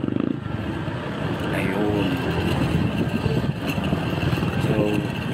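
A car overtakes a motorcycle on a rural road near the NLEX extension, engine and road noise droning steadily close by, with a brief spoken word.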